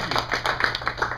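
Short burst of light applause from a small audience at a tech talk, several hands clapping in quick irregular patter, fairly soft and a little distant.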